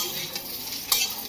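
Food fries in a pan while being stirred, a steady close sizzle with scraping strokes and one brief louder clatter near the end, without any voices.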